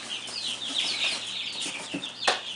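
Baby chicks in a barn cheep constantly in high, thin overlapping peeps, several birds close by, with one louder chirp standing out near the end.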